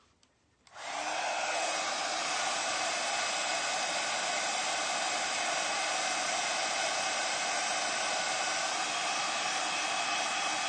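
A heat gun or hair dryer blasts hot air onto a decoupaged ceramic vase. It switches on abruptly after a brief quiet moment, then runs as a loud, steady, even whoosh.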